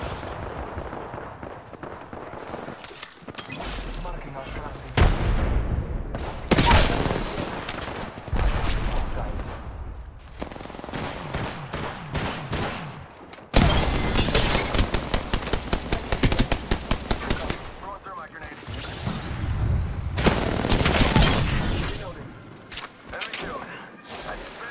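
Bursts of gunfire in a shooter video game, with rapid automatic volleys and single loud shots coming in clusters, at times dense and close, mixed with game effects and occasional talk.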